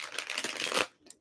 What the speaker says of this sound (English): let's get a good shuffle here for Gemini